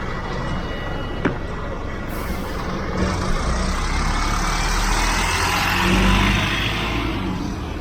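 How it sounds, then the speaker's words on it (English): A London bus in traffic pulls away with a loud diesel engine rumble that swells and builds, marked by a brief air-brake hiss near the start and a sharp click early on. "the bus continues towards its final destination, Greenwich Town Centre"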